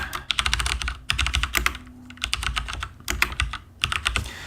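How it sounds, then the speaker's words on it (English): Rapid bursts of keystrokes on a computer keyboard, typed in quick runs separated by brief pauses, close and clear with no talking. "I'm just going to type this out real fast."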